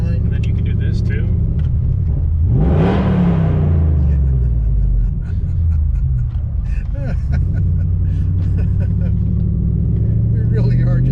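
A Coyote-swapped truck rumbles loudly with a deep, steady engine drone, with one sharp rev swelling around the third second before settling back to a throaty idle. People talk over it throughout.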